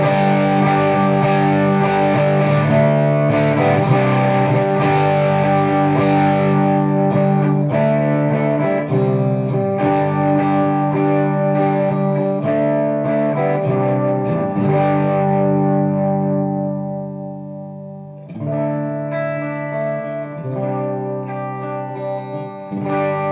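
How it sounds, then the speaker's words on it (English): Electric guitar played through a TC Electronic MojoMojo Overdrive pedal, giving a thick, sustained overdriven lead tone with chords and melodic notes ringing out steadily and loudly, fading briefly before a final phrase resumes. "And now with MojoMojo Overdrive."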